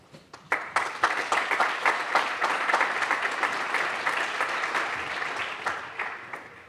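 Banquet audience applauding at an annual awards dinner, a dense sustained round of clapping from a room full of people that starts sharply, stays steady and loud, then slowly thins toward the end.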